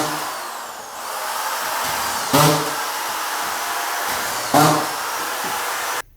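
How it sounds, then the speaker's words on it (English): A belt-fed upright screw gun drives screws into a radiant-heat subfloor panel, its steady high motor whine punctuated by two loud bursts as screws are sunk about two seconds apart, with no talk. "we obviously have the upright screw gun. It's belt fed"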